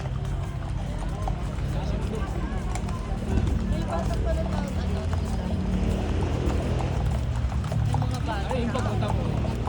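A horse on a riding trail in Baguio City walks with steady, moderately close clip-clopping hooves, while people talk nearby throughout.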